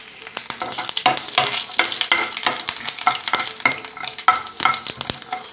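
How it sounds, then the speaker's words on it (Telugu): Mustard seeds, peanuts, chana dal, urad dal and cumin fry in hot oil in a pan for semiya upma, crackling and sizzling loudly with quick irregular pops and spatters throughout. "ఆవాలు వేసి వేయించుకుంటాం"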